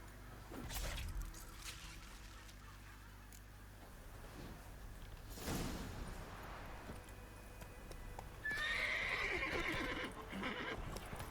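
In The Witcher III: Wild Hunt, a horse clip-clops steadily at a moderate distance, with a clear whinny bursting out near the end over quiet ambience.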